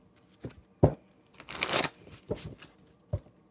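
A deck of tarot cards is shuffled close by in quick riffling bursts. A dense rustling stretch sits in the middle, with separate snaps before and after it, and no one talks.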